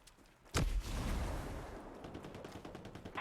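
Hostile gunfire in Ghost Recon Breakpoint opens with a loud burst, then continues as a sustained rattle of rapid shots mid-distance.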